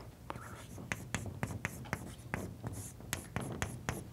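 Chalk or marker strokes on a board during a mathematics lecture on quantitative unique continuation, a steady series of short, sharp taps and scratches, close and fairly clear, with no talking over them.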